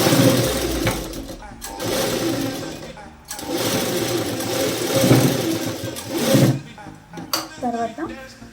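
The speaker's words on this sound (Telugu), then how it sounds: "ఈ పట్టీ ఏదైతే ఉందో ఆ పట్టీ మీద కార్నర్ పైన రివర్స్ స్టిచ్చింగ్" Sewing machine running in reverse-stitch mode along the strip of a blouse, a steady close mechanical whirr in long runs with brief stops, someone talking over it.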